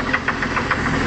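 An OMC Cobra 4.3 marine engine runs with a steady knock, sharp metallic taps repeating roughly every 0.15 seconds over a continuous low engine drone, close and fairly loud, with no voices.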